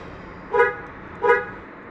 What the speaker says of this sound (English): Double honk, signifying that we're in.